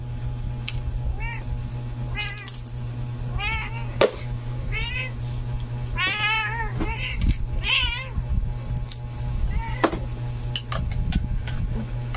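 A white Persian cat in heat meows and caterwauls repeatedly, drawn-out wavering yowls in irregular bursts over a steady low hum, with occasional ticks and clatter and faint voices nearby.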